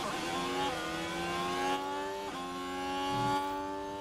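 A Ferrari Formula 1 car in a racing video game, with Lewis Hamilton in a Grand Prix, revs up as a high, steady engine whine, climbing in pitch with two quick gear shifts.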